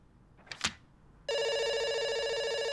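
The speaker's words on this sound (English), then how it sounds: "it's ringing. It's still ringing." A telephone rings in the video game A Whirlwind Heist, a loud, continuous electronic trilling bell that begins abruptly after a short rustling noise and carries on unbroken.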